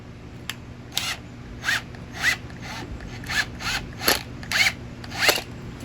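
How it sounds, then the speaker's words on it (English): Screws being driven into a hardwood garden table frame give a series of about ten short, sharp, scraping bursts at an irregular, fairly quick pace, close by and with no talk. "So we are starting our screws."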